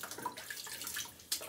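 Tap water running steadily into a basin while a face is wetted, a soft continuous splashing hiss with small shifts and one brief louder splash near the end.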